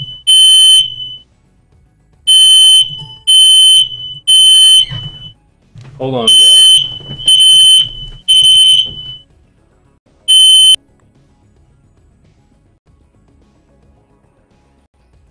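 A smoke detector sounds in a series of loud, piercing high beeps, roughly eight bursts in irregular groups, while someone talks briefly in between before the room falls quiet.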